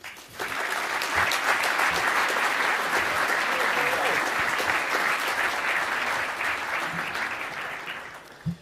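Sustained audience applause welcoming Honeywell chairman and CEO David Cote to the podium, a dense, steady clatter of many hands filling the hall for about eight seconds before tapering off.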